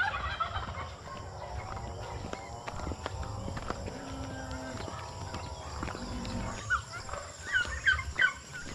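Turkeys gobble repeatedly in bursts outdoors, with other farm animal noises and faint clopping in the background.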